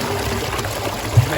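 Water pouring steadily out of a pipe while a pool filter is flushed, a continuous close splashing rush with a small bump near the end.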